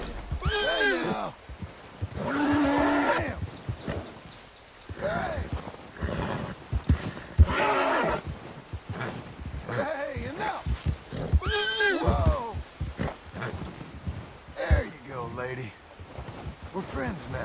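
White Arabian horse in the video game Red Dead Redemption 2 neighs and whinnies repeatedly at close range, with hoof clip-clops and snorts, while someone talks calmly over it.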